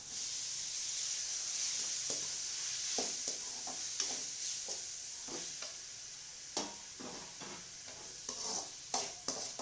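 Ripe tomatoes added to ginger and garlic sizzling in a pan give a steady, close frying hiss, broken by several sharp stirring clatters and spatters, with no talking.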